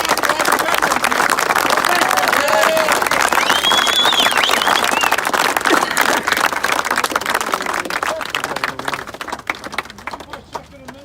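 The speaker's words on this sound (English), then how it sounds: "Round of applause for all the veterans here." Crowd clapping and cheering for veterans at an outdoor bikers rally, dense applause that fades toward the end, with voices talking through it.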